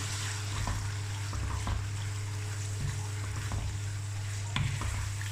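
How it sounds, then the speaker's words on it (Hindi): Masoor dal is mixed and fried in a pan, with a steady close sizzle under repeated spatula scrapes and knocks against the pan, plus a low constant hum in the background. "अब इसे मिक्स करेंगे और 5 मिनट तक इसे मज़ीद भूनेंगे।"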